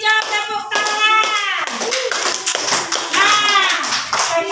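Schoolchildren clapping in a classroom for the green group, quick uneven claps mixed with children's excited voices and singing-like calls throughout.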